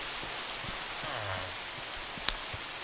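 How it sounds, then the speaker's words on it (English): Steady Minecraft rain hisses evenly across the whole stretch, with a few soft low thumps and one sharp brief click near the end, no voices present. "Now it's raining."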